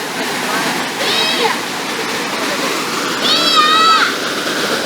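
Cachoeira do Formiga waterfall in Jalapão, Brazil, a steady broad rush of falling water close by, with faint birdcalls or whistles rising briefly above the constant roar.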